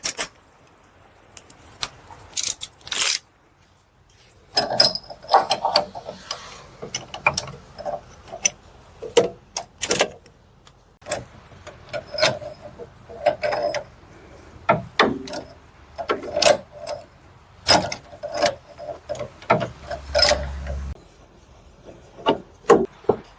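A ratchet on two half-inch drive extensions works an inner tie rod loose on a 2007 Dodge Ram, giving scattered clicks and scraping metallic bursts with quiet gaps between them.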